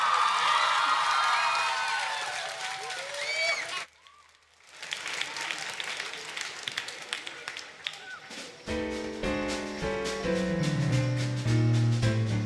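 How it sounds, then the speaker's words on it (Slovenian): Applause and cheering from a festival audience at a Maribor choir event, a dense crowd roar of clapping that dips briefly, returns, and then gives way to music. "Evo, en velik aplavz."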